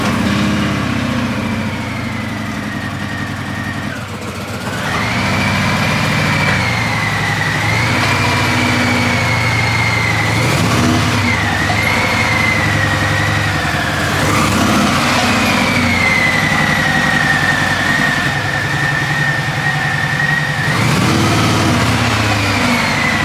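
A Harley Davidson Sport Glide motorcycle engine runs steadily in a garage, loud and close, a deep idle rumble with several gentle rises and dips in pitch as the throttle shifts.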